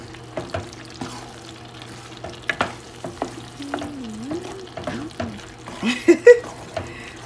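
Chili beans bubble and sizzle softly in a pot, with scattered spoon scrapes and clinks from stirring, up close and fairly quiet, and a few brief voice sounds come in near the end.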